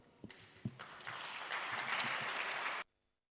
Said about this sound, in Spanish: así vamos a recibir con un fuerte aplauso